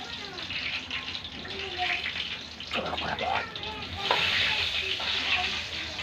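Pointed gourd (potol) frying in hot oil in a pan, a steady sizzle running throughout with stirring scrapes and a brief louder burst midway, fairly close.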